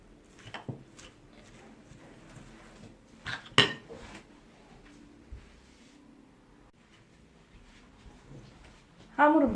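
Spinach filling for hand-rolled börek being stirred in a bowl: scattered light scrapes and clinks of a utensil against the dish, with a couple of sharper knocks and a louder rattle at the end, under soft kitchen background.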